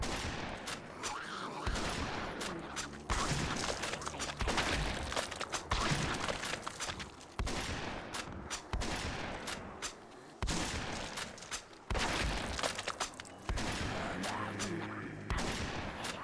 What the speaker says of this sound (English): I have to, like, shoot enough of these guys